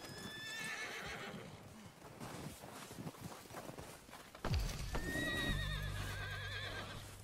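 A horse in the Red Dead Redemption 2 video game whinnies loudly twice, with hooves clip-clopping in between and a low rumbling game sound swelling in the second half.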